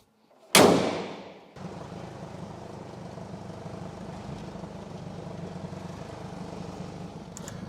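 A Jeep engine cranks with one loud burst, then settles into a steady, even running drone that continues to the end.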